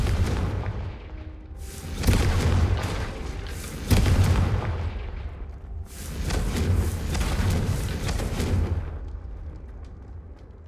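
Confringo, the fiery explosion spell in Hogwarts Legacy, is cast repeatedly, giving a string of booming blasts with heavy low rumbles, each lasting a second or two before fading.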